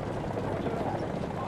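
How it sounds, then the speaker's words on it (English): In the War Thunder combat game, enemy helicopters fly overhead with a steady, fast rotor chop over a brief moment, while a voice talks over it. "You can see there have now been multiple enemy helicopters in the air"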